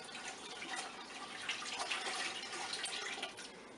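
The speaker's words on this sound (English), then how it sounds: "I'm going to add another gallon of water." Water pours steadily from a container into a pot of vegetables for poultry bone broth, a faint, continuous splashing stream lasting a few seconds.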